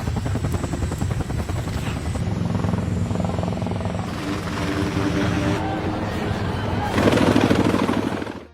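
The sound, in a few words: helicopter taking off in a film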